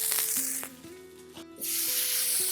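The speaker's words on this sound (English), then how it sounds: "What we're going to do is we're going to spray our hot pan." A hot grill pan for asparagus is sprayed with cooking oil, giving a steady hiss at the start that drops out briefly, then a renewed spray hiss over a humming kitchen background.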